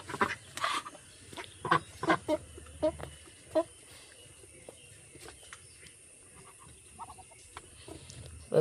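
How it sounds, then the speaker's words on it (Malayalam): Ducks and chickens on a farm, among them Vigova and African ducks, calling in short clucks and quacks at a moderate distance. The bursts are spaced irregularly over a faint insect drone and thin out toward the end. "അപ്പം ഇതാണ് നമ്മളെ താറാവാളും കോഴി."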